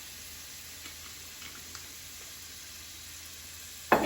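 Extra virgin olive oil sizzles quietly in a pan on medium heat, a faint steady crackle with a few small pops and a sudden louder burst of sizzling right at the end.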